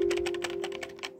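Keys on an old HP 5181 keyboard clack in a quick, uneven typing run, each press a crisp, close click, with a steady electrical hum underneath.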